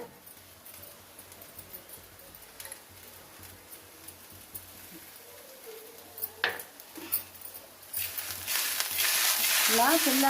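Chowdakaya (broad bean) pieces stirred in a frying masala in a pan, a soft scraping sizzle that grows louder and denser toward the end, with a sharper clatter midway.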